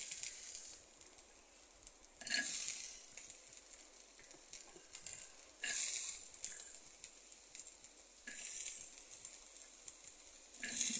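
Grated coconut fries in a pan for a beans seed curry masala, giving a steady close sizzling hiss that swells into louder crackling bursts about every three seconds as it is stirred, with no voices.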